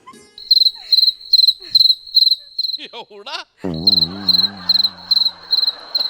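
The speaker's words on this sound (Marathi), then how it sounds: "तुला रातकिड्याचा आवाज आला?" Crickets chirp indoors inside a room, in a loud, regular pulsing trill of short bursts; midway the chirping pauses while a voice speaks briefly and a wavering tonal sound rises, then the rhythmic chirps resume.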